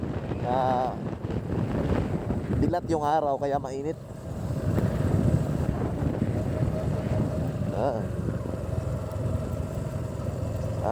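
Steady broadband wind rumble blowing across the microphone throughout, with a person talking over it.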